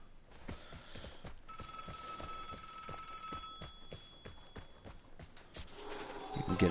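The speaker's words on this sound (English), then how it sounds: "Now that phone's ringing." A cell phone rings in the video game Vigor, a steady electronic tone repeating for several seconds over quiet footsteps and background game ambience.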